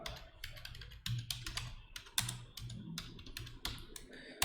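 Computer keyboard typing as a Terraform apply command is entered: a steady run of close, crisp key clicks in an irregular rhythm, some strokes louder, with no talking.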